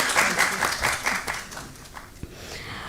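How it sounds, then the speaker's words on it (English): A room full of people applauds, a brisk patter of clapping that gradually fades out over a few seconds. "Please give a hearty round of applause"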